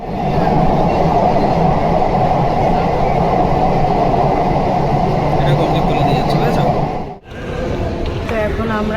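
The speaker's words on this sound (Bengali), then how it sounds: "তো এখন আমরা আছি হচ্ছে হাওড়া মেট্রো স্টেশনে, মানে যেখান দিয়ে আমরা এক্সিট করছি।" A metro train rumbles loudly and continuously through Howrah metro station, its steady roar filling the platform before briefly dropping away, with faint clatter afterward.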